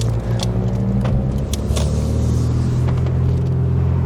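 Steady low car rumble from inside a Rover 216 Coupe with CVT gearbox creeping through traffic, with faint clicks and rattles over a continuous engine hum.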